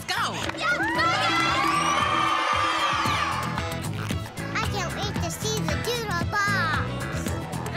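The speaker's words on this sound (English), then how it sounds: "the crowd is all abuzz" A large crowd of excited children cheers and shouts continuously, loud and close, with high voices rising and overlapping throughout.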